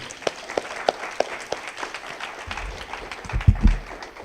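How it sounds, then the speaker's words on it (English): Audience applause at a community forum starts as a few separate claps, then builds into thicker clapping with some handling bumps near the end. "Let's give another round of applause for Kelsey."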